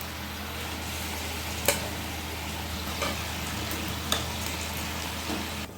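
Pieces of fried bata fish go into a pan of hot oil for a spicy oil curry, a continuous sizzle with a few sharper crackles and pops standing out.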